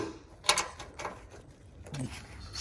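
A 1/2-inch socket works a nut down onto a fender stud of a John Deere lawn tractor, giving a few light metallic clicks and ratcheting scrapes at close range, with quiet pauses between turns.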